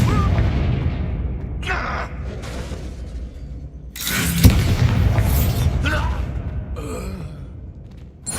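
Confringo fire-blast spell from Hogwarts Legacy, a loud burst and crackling blast erupting mid-clip over a dense game soundscape of combat effects and low rumble, with shorter impacts before and after.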